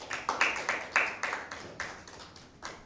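Applause for Team A at a school Bible quiz: a scattered run of claps with uneven rhythm, moderately distant and fairly quiet, slowly tapering off over about three seconds with no talk over it.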